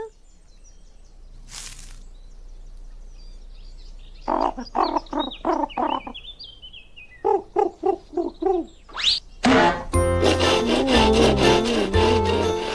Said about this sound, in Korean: 통나무를 쓱싹쓱싹 여러 개 자르고 있어요